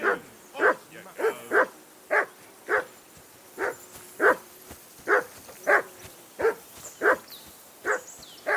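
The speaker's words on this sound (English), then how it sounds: "Jesus, Henry, that barking's driving me nuts." A dog barks repeatedly in Kingdom Come: Deliverance II, sharp evenly spaced barks at a fairly steady rhythm, close and clear over a low ambient background at a riverbank camp.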